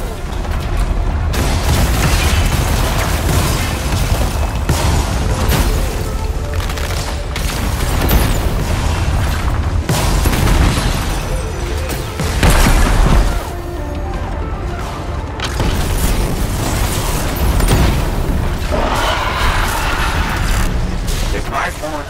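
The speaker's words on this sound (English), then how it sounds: "The crystals are exploding." Crystals bursting in the video game Anthem, a dense run of booming, crashing explosions that pile up over about twenty seconds, loud and continuous, with a game voice talking over them.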